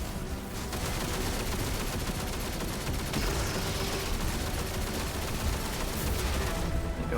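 Golden Gun super firing in the video game Destiny 2, amid a dense, sustained barrage of gunfire and impacts that fills the whole stretch at steady loudness.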